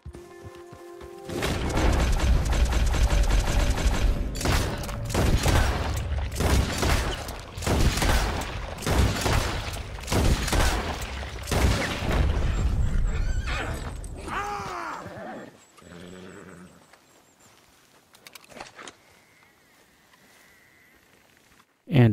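Rapid gunfire from a dual-wielded LeMat revolver and M1899 pistol in Red Dead Redemption 2 cracks in a dense string of loud shots. A horse's neigh and hoofbeats break through before the firing fades into quieter ambience.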